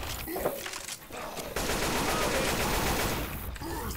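Dense gunfire from the co-op zombie shooter Left 4 Dead 2 rattles in loud, continuous bursts across the whole stretch, with only a brief dip near the middle.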